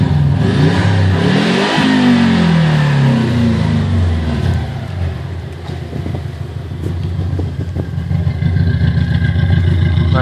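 A 1999 Subaru Legacy GT-B with a twin-turbo boxer engine revs loudly and close, its pitch climbing and falling in sweeps over a rumbling exhaust, continuous throughout.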